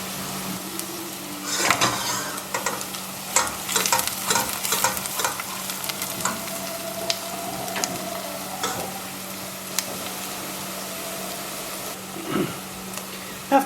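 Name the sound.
onions frying in clarified butter in a pan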